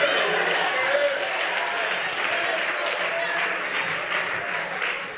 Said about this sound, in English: somebody ought to clap your hands and open your mouth and shout